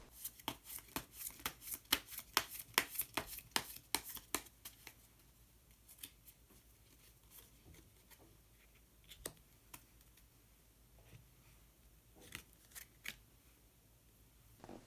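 Tarot cards being shuffled and drawn give a dense run of crisp, close snapping riffles for about five seconds, then thin out into sparse, quieter card clicks and slides with a few sharper snaps near the end.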